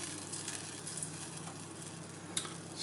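Butter sizzles quietly in a pan while being broken into smaller pieces for ginger cookies, a soft steady crackle with a single light scrape or tap near the end, no voices.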